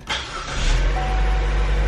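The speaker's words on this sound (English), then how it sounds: "Start the vehicle" A 2015–2023 Chevrolet Trax engine starts after an intake camshaft position sensor replacement, with a quick crank that catches into a loud, steady close-up idle and no talk.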